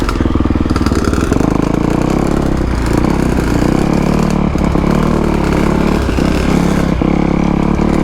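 Two-stroke dirt bike engine on a wet, tight trail, loud, close and continuous with a buzzy, rattling drone that rises and falls slightly.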